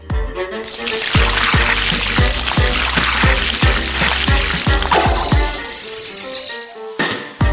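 Water pouring from an elephant-shaped LEGO watering can, a loud, close stream with a rhythmic series of deep thumps beneath it, then a brighter splashing flow before it cuts off near the end.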